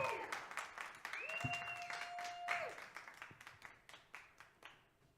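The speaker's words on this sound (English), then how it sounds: "Is that golf clapping I hear" Polite golf-style clapping from a small audience at a live music show, a light run of separate claps that thins out toward the end, with faint voices and a brief held tone in the middle.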